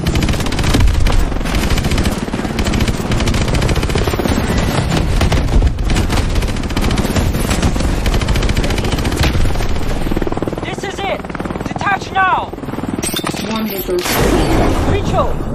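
Heavy gunfire in a Call of Duty: Advanced Warfare cutscene, loud continuous automatic bursts and booms over a constant roar, with voices speaking near the end.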